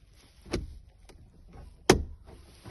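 Two sharp plastic clicks of a roof trim clip on an Opel Combo snapping into place sound a little over a second apart, close by, with faint handling noise in between.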